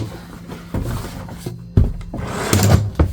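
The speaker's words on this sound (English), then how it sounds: "at least the drawer closes all the way" A wooden drawer in a Winnebago View motorhome is slid and pushed shut several times, giving close, loud thumps and scraping rubs with a sharp final knock as it closes flush.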